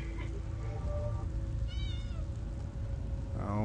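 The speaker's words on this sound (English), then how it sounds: "I love how my cat is still here." A cat in The Elder Scrolls Online video game meows a couple of times, short and moderately loud, over a steady hissing rain-like ambience.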